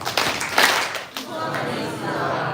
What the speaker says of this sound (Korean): 만약에 박수 소리가 작을 때는 저처럼 짝짝을 하셔야 돼요